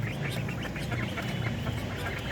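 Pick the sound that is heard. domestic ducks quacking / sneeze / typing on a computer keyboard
domestic ducks quacking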